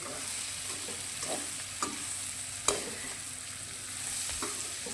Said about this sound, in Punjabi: ਵਿੱਚ ਵਿੱਚ ਇਹਨਾਂ ਨੂੰ ਹਿਲਾਉਂਦੇ ਵੀ ਰਹਿਣਾ ਕਰੇਲਿਆਂ ਵਿੱਚ ਤੇਲ ਕਾਫੀ ਜ਼ਿਆਦਾ ਸੀ